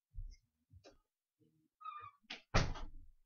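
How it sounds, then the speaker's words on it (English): A door is shut close by, giving a single heavy thud after a few soft shuffles and rustles in an otherwise quiet room. "I had to close the door."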